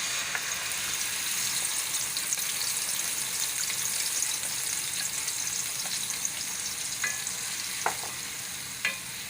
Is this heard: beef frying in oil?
yes